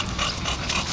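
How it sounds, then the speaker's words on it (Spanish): A small boxer dog gives a brief, close whimper lasting about a second. "Aquí estoy con mi perrito."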